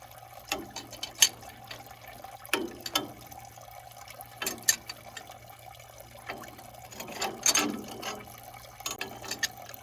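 Water drains from a 1944 John Deere B tractor, heard as a low steady trickle broken by scattered splashes and metallic clinks at irregular intervals, with no one speaking.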